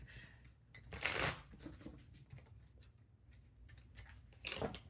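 Tarot cards shuffled during a reading, with two bursts of crisp riffling and faint light card handling between them, close and quiet with no talking.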